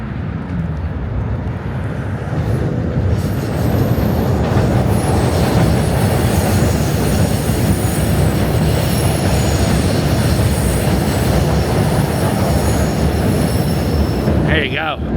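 A train rumbles past close by for a long stretch, wheels clattering and squealing steadily, loud throughout with no speech.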